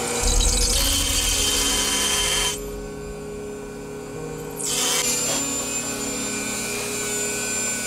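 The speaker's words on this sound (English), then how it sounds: "for the rivet to actually crush flat where it won't get in the way" A rivet on an AK rifle build is crushed flat with a power tool, a loud steady mechanical whir with a brief drop in the middle before the grinding noise resumes.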